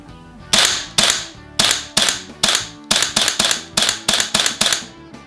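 A GBLS DAS GDR-15 blowback airsoft rifle fires about fourteen sharp, loud cracking shots in uneven bursts and singles, each shot a crisp snap with a mechanical clack and no voices.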